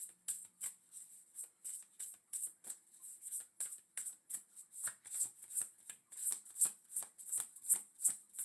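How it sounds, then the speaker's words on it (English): Tarot cards are shuffled by hand in a quiet room, giving a steady run of crisp, rhythmic riffling bursts close to the listener with nothing else heard. "I'm going to go ahead and shuffle these"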